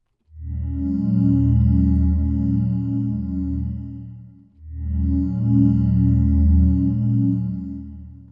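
A bright, buzzy Serum 2 synthesizer tone with its low-pass filter opened up, holding a low chord, rich in upper harmonics, playing two sustained phrases with a brief dip between them.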